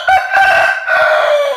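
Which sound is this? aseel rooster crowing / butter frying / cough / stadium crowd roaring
aseel rooster crowing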